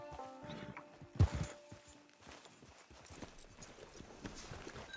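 Horse hooves clip-clop at a walk in Red Dead Redemption, a steady, moderately close patter of hoofbeats with one louder thump near the start over a low game backdrop.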